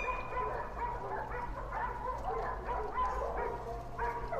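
A pack of hunting dogs bays and yelps during a hunt, the repeated barks overlapping in a busy, moderately distant chorus over a low steady hum.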